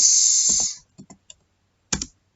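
A few scattered keystrokes clack on a computer keyboard as network configuration commands are entered, with a brief single tap and a final key press after a short steady tone at the start.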